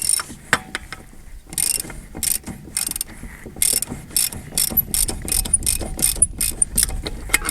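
A ratchet tightening a bolt on an old square-body vehicle, its rapid pawl clicks coming in loud, close bursts separated by brief pauses, with a voice speaking a few words briefly.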